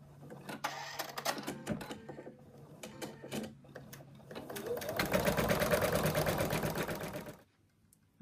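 An embroidery machine stitches a securing outline onto stabilized fabric for a monkey design. First come intermittent clicks and short runs, then a loud, fast, steady rattling stitch-out for a few seconds before it stops abruptly, with some talking early on.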